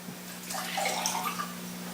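Water is poured steadily into a container for a freezing demonstration, giving a continuous close gushing and splashing flow for about two seconds with no talk.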